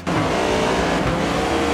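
Race car engine at North Wilkesboro in the iRacing NASCAR '25 game, a loud, steady roar holding a sustained rev throughout after a sudden start, with no talk.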